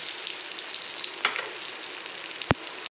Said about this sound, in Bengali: চালটা দিয়ে আমাদেরকে এইভাবে নাড়তে হবে।